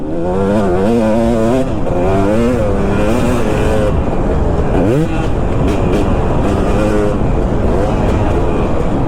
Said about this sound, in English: Dude, you hardly have to rev this bike at all.